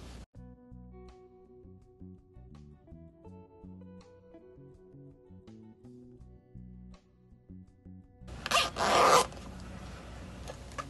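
A zipper slides back onto a tube made from scrap fabric, heard as one brief, rasping burst near the end, after a long stretch of quiet background music.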